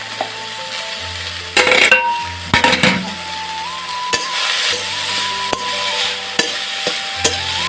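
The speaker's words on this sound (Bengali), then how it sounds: "তো সন্ধ্যা ফুল তেলেতে ছেড়ে দিয়েছি, এখন ভাজা হবে।" Sandhya flowers frying in oil with turmeric in a home kitchen, giving a steady low sizzle broken by a few louder stirring scrapes and clinks of a utensil against the pan, with no talking.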